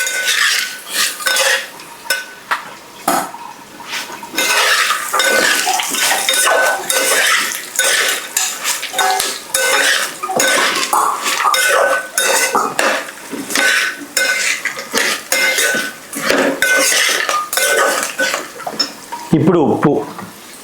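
A spoon scrapes and clatters against a pan while bitter gourd fry is stirred over the stove, busy irregular metallic scraping throughout with soft sizzling underneath; a voice speaks briefly.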